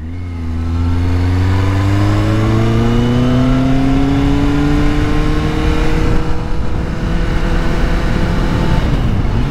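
A Kawasaki Z800 motorcycle engine revs loudly and continuously close by, its pitch climbing steadily as the throttle opens, with no talking over it.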